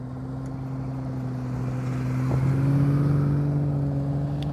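Honda Goldwing SS motorcycle engine idling low and steady during slow-speed riding practice, a deep continuous hum that swells slightly louder midway as the bike moves closer.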